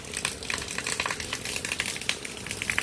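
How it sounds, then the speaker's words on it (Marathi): Heavy rain pouring down outdoors near a house, a dense continuous hiss and patter with fine spattering drops, steady and fairly loud with no talking. "पावसाचा आवाज येतोच आहे तुम्हाला. हे पहा, खूप जोरात पाऊस येऊ राहिला."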